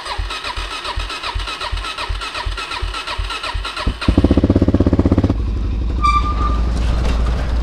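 A motorcycle engine cranks with a rapid, rhythmic starter churn for several seconds, then catches with a loud burst and settles into a rumbling idle close by, with no talking.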